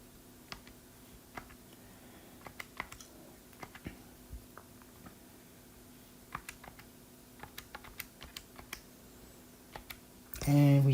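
Sparse, light plastic clicks of calculator keys being pressed one at a time at an uneven pace, close and fairly quiet over a low steady hum, ending with a brief louder rustle.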